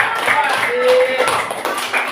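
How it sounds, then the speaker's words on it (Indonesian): A primary school class claps for a group of students, a brief patter of children's clapping mixed with voices talking over it. "Tepuk tangan untuk kelompok 1."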